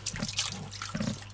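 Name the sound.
water pumped from river for washing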